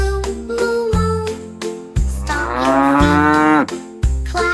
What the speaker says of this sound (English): Baby cow, moo, moo, moo.